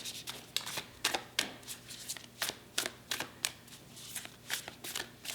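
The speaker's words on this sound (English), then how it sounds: "I really am shuffling here." Tarot cards being shuffled by hand, a quiet, close series of crisp riffling bursts repeating in an irregular rhythm, with no talk over them.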